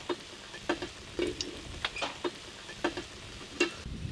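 Chicken jali kabab in an egg batter frying in a pan, giving faint, intermittent crackles and sharp pops spaced irregularly over a low sizzle.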